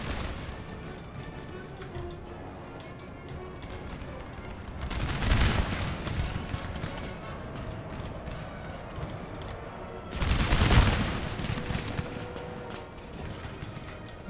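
Massed musket volleys in Napoleon: Total War, two big rolling crackles of many shots fired together several seconds apart, over a continuous battlefield din.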